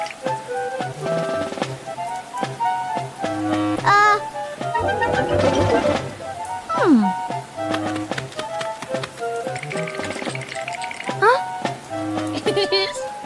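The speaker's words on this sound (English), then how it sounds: "It's a rainy morning, and Peppa brings her favorite pink umbrella." Steady rain patters beneath cheerful tonal music, with the musical notes and a few gliding effects standing out over the soft wet hiss.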